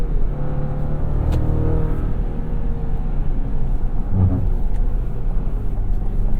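A 2023 GMC Canyon pickup engine revving while holding a gear, a steady loud low rumble with a slight rise and fall, heard from inside the cab.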